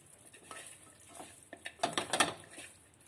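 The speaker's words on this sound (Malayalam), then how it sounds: "മസാലകളും ഇതെല്ലാം കൂടി കൈയോണ്ടല്ലേ മിക്സ് ചെയ്തോ" Chicken biryani marinade with spices mixed in a bowl: soft, wet stirring and squelching, then a quick run of closer clinks and scrapes near the end, quiet and with no talk.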